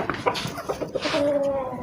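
Hens and a rooster inside a long covered coop give off short, close clucks and squawks in quick, irregular bursts, followed by a brief drawn-out call, all against a low background rustle.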